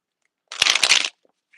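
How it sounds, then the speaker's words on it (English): A deck of tarot cards is shuffled once: a quick, close riffle lasting about half a second, with quiet before and after. "I'm gonna keep shuffling these cards."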